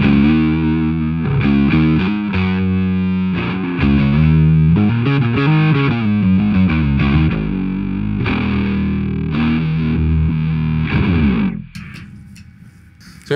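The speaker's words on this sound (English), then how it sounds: "you come up with a ripping bass tone that sounds a little like this." A rock bass guitar played through a blend of distorted and clean signals growls thick and gritty in a riffing line for about eleven seconds before cutting off, with no voices.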